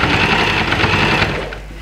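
Sewing machine running a straight stitch on cape fabric, a fast even rattling whir close by that slows slightly at the end.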